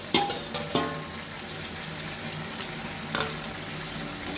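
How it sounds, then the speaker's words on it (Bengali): A spoon stirs fried potatoes into chicken curry in a pan. A low, steady sizzle runs throughout, and a few sharp scrapes and clinks of the spoon against the pan sound near the start and again later, with no talking. "দিয়ে ভালো করে নাড়িয়ে নেবে যাতে মাংসের সাথে আলুটা ভালো করে মিশে যায়"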